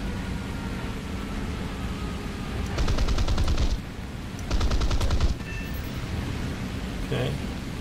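Cannons on a Mustang Mk 1a fighter in War Thunder fire in two loud, sustained bursts of rapid rattling shots, each about a second long, over steady aircraft engine drone, with a faint voice underneath.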